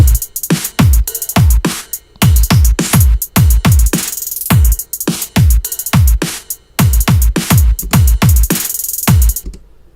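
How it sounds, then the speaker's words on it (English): A fast, steady synth pattern of punchy notes with booming low tails, its bright tone sweeping up and down in a soft whoosh. "the filter sweep's not going to be as dramatic, but you will still get kind of like a whoosh sound"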